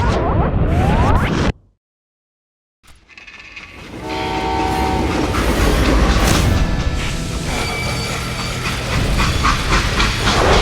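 Train rolling in the Western shooter game Call of Juarez Gunslinger, a loud continuous rumble and clatter of wagons with whistle-like tones, interrupted by a short silent gap near the start.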